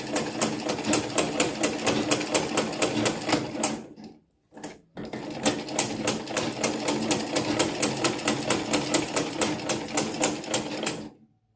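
A Butterfly home sewing machine running in two bursts of steady, rapid needle clatter with a brief pause near the middle, close and loud with no talking.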